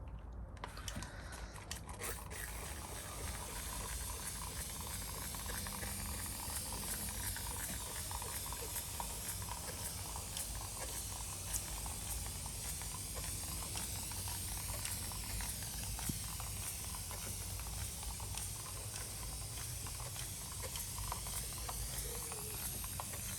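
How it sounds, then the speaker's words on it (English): Fertilizer sprayed across a collection of carnivorous plants, a steady, close hissing spray that runs continuously with no talk over it. "I'm gonna go ahead and spray the entire collection."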